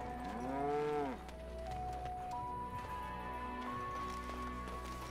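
A cow in the Dragon Age: Origins village of Lothering gives a long, drawn-out moo, then a lower lowing tone continues under a game soundtrack with steady background ambience.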